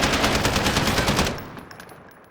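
A rapid burst of automatic gunfire sprayed into a room in Call of Duty Modern Warfare, loud and continuous for over a second, then cut off into a fading echoing tail with faint clinks.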